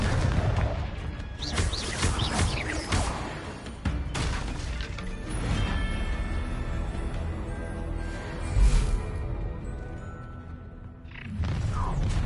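Blasting spell explosions and booming impacts in Hogwarts Legacy, open-world fantasy combat, with repeated loud crashing bursts over a dense game mix, no talk.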